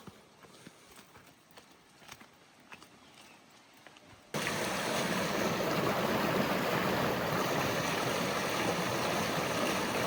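Quiet outdoor ambience with faint rustles in Girnar forest gives way abruptly to a loud, steady rush of a waterfall and flowing stream, close and continuous.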